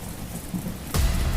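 Heavy rain pours steadily on a stormy night, an open front door letting it soak the floor, with a sudden louder burst near the end like rolling thunder; steady and fairly close, no voices.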